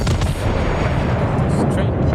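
Warship guns firing in a World of Warships naval battle, a dense, continuous roar of heavy artillery blasts that fills the whole stretch, loud and close, with a voice faintly mixed in.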